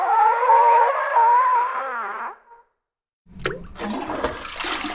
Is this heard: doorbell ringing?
no